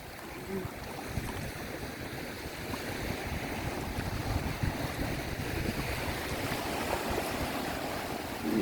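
Steady wind at a beach gusting and rushing across the microphone, with a soft surf-like wash underneath, continuous and fairly loud throughout.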